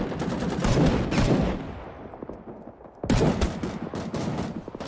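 SKS rifle fire in a Vietnam War video game: dense bursts of close, loud shots crackle in two clusters, a brief lull between them, with no talking.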